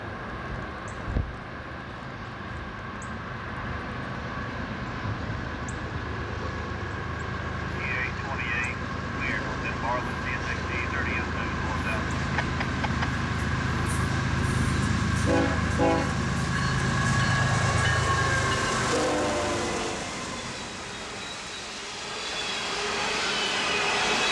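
Freight train B828 on a 55 mph stretch of track rumbles steadily past at close range, a long horn tone sustained over the roar and building into a loud pass before easing off.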